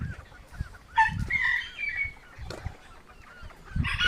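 Chickens in a barn cluck and squawk in short bursts, some honking calls standing out, with scattered shuffling and no talk.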